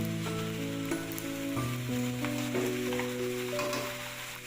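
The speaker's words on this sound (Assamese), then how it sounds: "কাটি ৰখা গোটেইখিনি চব্জি দি দিম। এনেকৈ অলপ সময় লাৰিম ভালকৈ।" Chopped mixed vegetables for a vegetarian labra curry are stirred and fried in a pan, a steady soft sizzle running under prominent tonal music throughout.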